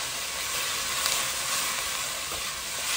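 Sliced celery and peeled carrots hit a pan of sautéing onion, giving a soft, steady sizzle and hiss that stays even throughout with no voices.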